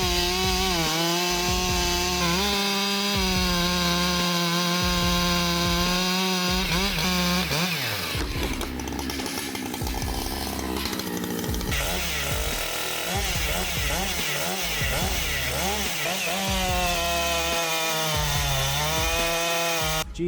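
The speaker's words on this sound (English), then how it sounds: "fires up the STIHL MS-8081 and sinks it into an 80-centimeter log" A loud STIHL chainsaw roars continuously as it bites into an 80-centimetre log, the engine pitch dipping and rising as the blade works through the wood.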